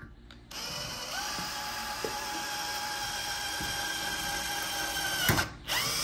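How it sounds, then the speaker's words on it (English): A 1/8 inch drill bit bores a hole while mounting solar panel hardware, the drill motor whining steadily and close for several seconds with slight rises in pitch, then winding down at the end. "we're gonna take our 1/8 inch drill bit here and we're gonna find dead center."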